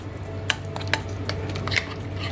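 A spoon stirs spice paste and oil together for chicken, with several sharp clinks and scrapes against the bowl over a low steady background and no speech.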